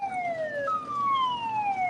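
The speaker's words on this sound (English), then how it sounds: "they just turned the sirens on to release more water" A dam's water-release siren wails steadily with long, slowly falling tones, loud and continuous over a faint background hum.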